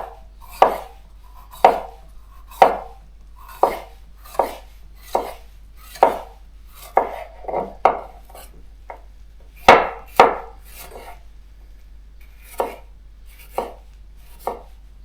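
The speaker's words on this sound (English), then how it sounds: "So for my salad, I'm gonna cut some" Knife slicing food into strips on a cutting board during meal prep, about twenty crisp, evenly spaced chops, close and clear with no talking.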